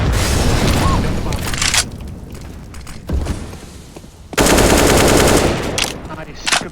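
Loud rapid automatic gunfire and heavy booming blasts from a grenade fill a Counter-Strike: Global Offensive round, in dense bursts with short lulls between them.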